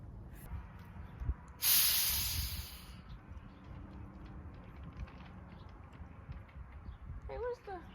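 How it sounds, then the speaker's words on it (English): A garden hose sprays water in a short, loud hissing burst, then quiets to low outdoor rumble with faint movement sounds. "Time to water the garden"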